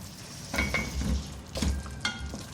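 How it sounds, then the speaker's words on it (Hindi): Potatoes for Punjabi dhaba-style dum aloo are stirred into masala in a pan, giving soft scraping strokes and light sizzling in a few short bursts, close and fairly quiet, with no talk. "मिक्स कर देंगे इसको मसाले के साथ।"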